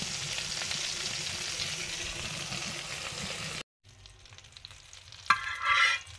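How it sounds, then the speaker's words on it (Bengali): Meat-stuffed pointed gourds (potol) fry covered in a pan with a continuous close sizzle. The sound cuts off abruptly, then returns quieter with a few clinks and a brief louder hissing surge at the end. "পটলগুলো ঢাকা দিয়ে দিয়ে ভালো করে ভেজে নিচ্ছি"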